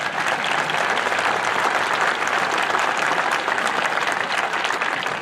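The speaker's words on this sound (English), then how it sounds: "Please give these outstanding educators a round of applause." A large audience at a 2019 high school graduation ceremony applauds steadily and loudly, a dense, even wash of clapping that holds for the whole stretch without talk.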